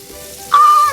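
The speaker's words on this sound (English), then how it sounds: "My water's boiling." Water boils in a pot for buttered pasta: a steady, close bubbling hiss that swells louder halfway through, with a thin whistle-like tone riding over it. No voices.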